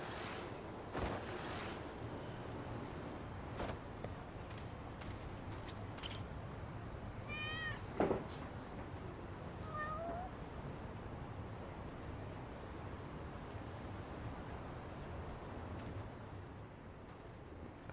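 Cats in the video game Lost Judgment give a few faint, short meows over a quiet ambient bed, with soft clicks and a brief thump along the way.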